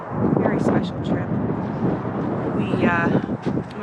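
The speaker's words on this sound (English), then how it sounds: "not only is it windy, but we've got lots of traffic behind us" Wind buffets the microphone outdoors beside road traffic, a loud continuous rumble and roar, with a voice speaking underneath.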